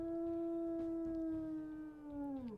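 A wolf in the video game WolfQuest lets out a single long, deep, sustained howl that holds a steady pitch before dropping at the end, clear and alone.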